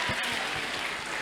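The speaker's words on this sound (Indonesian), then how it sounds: "Boleh tepuk tangan dulu dong buat kita semua." Audience applause at a health talk with Ade Rai, a steady wash of many hands clapping at close range with no voices breaking through over its short run.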